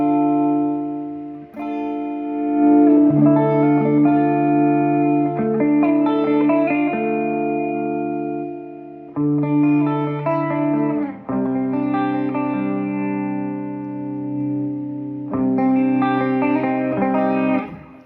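An electric guitar played through both pickups, tones at full, plays sustained chords and notes with a bright, full tone, ringing out with reverb between changes, no voices.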